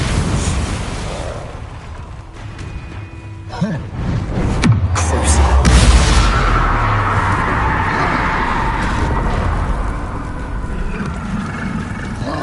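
Spell blasts in the video game Hogwarts Legacy: a loud explosive burst near the middle that rolls into a long, heavy rumble, with spell crackles and effects layered on top throughout.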